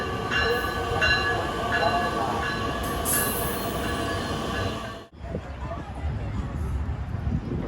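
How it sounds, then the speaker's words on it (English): A Burlington Route Zephyr train passes near Lake Michigan in Chicago, with a steady rolling rumble of wheels and wagons and high squeals, then a sudden drop as it clears; someone talks over it. "Oh, look, it's a Zephyr. It's a Burlington Route Zephyr. It's such a cool looking train, isn't it?"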